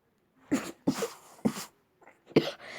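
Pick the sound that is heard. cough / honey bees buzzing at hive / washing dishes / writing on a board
cough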